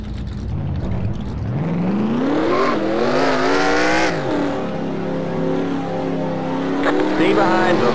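Race car engines in the NASCAR Racing 2003 video game, loud and close, revving up and rising in pitch with layered engine tones, a commentator talking over them.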